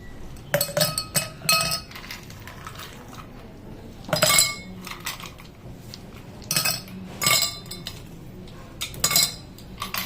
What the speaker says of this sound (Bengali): ice cube